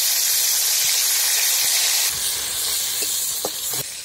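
A bay leaf sizzling in hot oil, a loud, steady hiss that fills the whole stretch with a few faint pops near the end.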